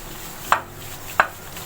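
Chicken wings being mixed with egg and marinade in a bowl give two sharp, close knocks about two-thirds of a second apart against a quiet background.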